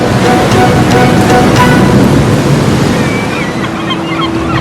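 Sea waves surging in on both sides of Venice during a storm, a loud continuous roar of surf and wind rushing through the whole stretch with no voices.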